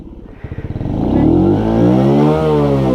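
A motorcycle idles with a rapid pulsing chug, then the throttle opens and the engine revs up into a loud, rising whine that holds near the listener, with a brief clatter near the end.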